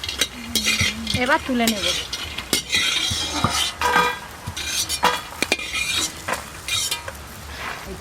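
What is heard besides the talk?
stirring food in a pan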